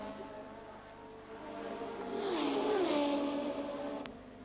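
A Formula 1 car of the 1985 Austrian Grand Prix at Zeltweg, Patrick Tambay's, rejoining after a stop for a punctured left rear tyre, its engine note rising and sweeping in pitch over a couple of seconds before easing, under a constant background hum.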